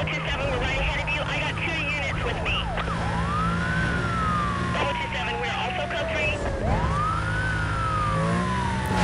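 Police car sirens wail and sweep up and down in Need for Speed: Most Wanted, over roaring car engines and game noise, with a voice talking throughout.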